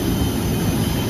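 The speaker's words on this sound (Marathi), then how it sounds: "हे आपलं प्लेन" Steady, loud roar of an airliner's jet engine at an airport, continuous broadband rumble with a high whine throughout, no talking.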